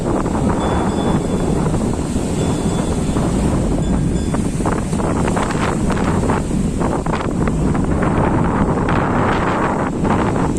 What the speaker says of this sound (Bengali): সেখানে দেখ কত দূর জল চলে আসছে দেখো বৃষ্টিও শুরু হয়ে গেছে